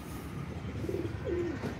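Pigeons cooing softly in a small loft, a couple of low murmuring coos over a steady background hum, fairly faint and with no voices.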